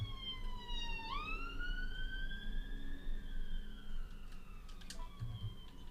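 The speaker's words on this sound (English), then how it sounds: "there have been sirens in the background" A single wailing siren rises and holds its tone in the background behind quiet video game audio, with faint clicks near the end.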